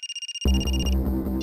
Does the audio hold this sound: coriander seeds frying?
no